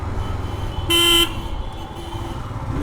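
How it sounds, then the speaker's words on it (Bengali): A single short car horn honk rings out over the low rumble of road traffic, nearby and fairly loud. "ভিড়ের মধ্যে যথেষ্ট হর্ন আছে আশেপাশে।"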